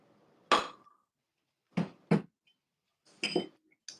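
A WDT tool stirring espresso grounds in a portafilter basket, heard as a few sharp clinks and scrapes in separate bursts with quiet gaps, close and alone.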